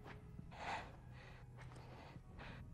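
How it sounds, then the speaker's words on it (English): Ellie, a girl in the video game The Last of Us Left Behind, breathing hard during a water gun fight: several quiet, gasping breaths in a steady rhythm, faint and close against a low background. "Ellie, stop breathing so hard."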